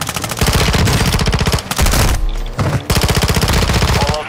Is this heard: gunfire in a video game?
yes